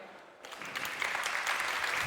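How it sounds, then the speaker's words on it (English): An audience applauds at the end of a conference talk on influencer marketing. The clapping swells in after a quiet start and holds steady, moderately distant and soft. "Well-deserved applause from the audience."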